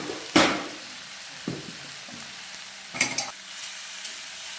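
Amaranth leaf stir-fry being stirred in a pan, with a soft background sizzle under a few distinct scraping strokes of a spatula spaced unevenly across the stretch.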